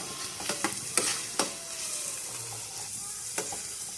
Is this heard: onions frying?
yes